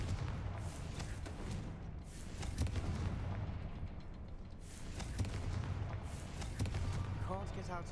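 Spell blasts and explosions from the Hogwarts Legacy video game: a steady rumbling wash of booms and crackling bursts throughout, with a voice speaking briefly near the end.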